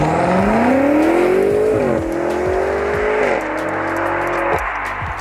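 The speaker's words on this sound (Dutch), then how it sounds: "En die 4 uitlaatpijpen, daarvan laat ik je graag alvast even wat meer horen." A 2018 BMW M5 F90 V8 barks through its quad exhaust, rising through several loud, close revs with sharp drops between gear shifts, no voices over the engine.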